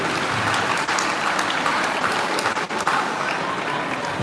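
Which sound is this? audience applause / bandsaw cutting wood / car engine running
audience applause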